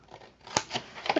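Scissors snipping the corners off a paper tag, a few crisp, quick cuts in close succession, near and clear.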